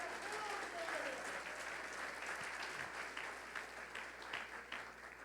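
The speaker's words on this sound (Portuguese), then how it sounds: "dá um aplauso ao Senhor e glorifica." A church congregation applauds during a worship service, a dense steady wash of many hands clapping that thins a little near the end, with a voice rising briefly over it early on.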